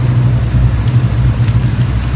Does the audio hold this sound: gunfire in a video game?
no